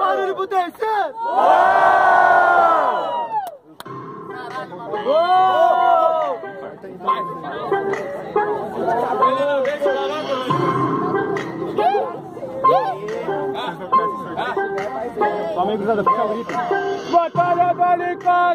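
Crowd at a street rap battle roaring and cheering loudly in a sharp opening burst, then continuing with shouting, chanting and excited chatter close around the microphone.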